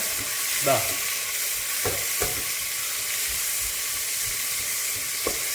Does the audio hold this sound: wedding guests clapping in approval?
no